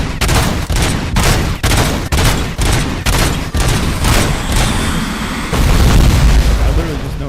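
Nonstop heavy gunfire in the video game RoboCop on PS5, a loud, close run of booming shots in a regular rhythm with no reload pauses, ending in a sustained roar.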